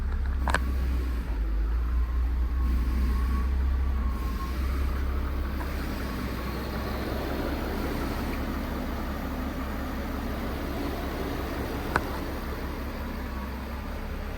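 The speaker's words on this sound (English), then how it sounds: "the engine itself actually ran great, as you can hear in these clips" Volkswagen Phaeton with a W12 engine idling, a low steady rumble with a constant hum, a couple of brief clicks, heard from close by without talk.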